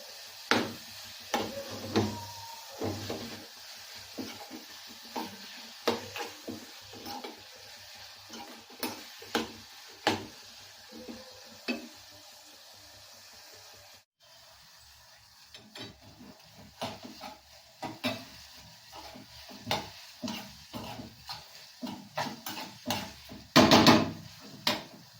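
A carrot mixture cooks in oil in a pan over a low flame, with a soft, steady sizzle broken by frequent scraping and clinking as a utensil stirs it, close and fairly quiet.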